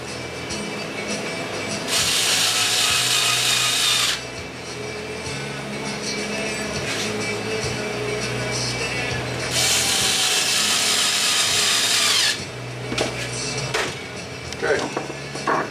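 A power driver runs screws into an HPI Savage RC car chassis in two loud whirring bursts a few seconds apart, with lower mechanical handling noises and someone talking between the runs.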